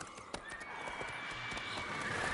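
Roach the horse galloping in The Witcher 3, a steady run of hoof clip-clops with an occasional whinny, moderately loud and close over a rushing wind-like bed.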